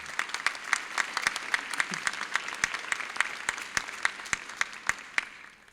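Audience applause at a Touro College of Dental Medicine graduation ceremony for the class of 2019: steady, dense clapping from a crowd throughout, with a few sharp single claps standing out, fading slightly at the end.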